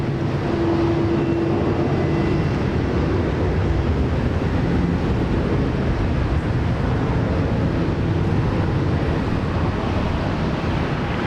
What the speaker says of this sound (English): Airbus A320 Jetstar flight 561 off to Melbourne.